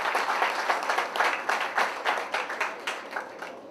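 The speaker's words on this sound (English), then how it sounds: "I ask you to give her a strong hand of applause." A big, happy crowd at an evening community gathering applauds in a dense, steady wash of clapping that holds strong throughout with small swells, no speech over it.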